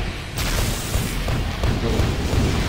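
Plasma guns and missiles fire in a video game, a dense barrage of booming blasts and bursts that rumbles continuously after a sudden onset.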